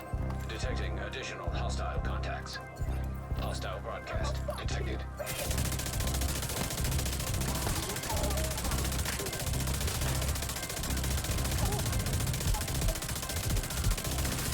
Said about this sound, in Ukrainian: Але набої з такою стрільбою доволі активно розходуються.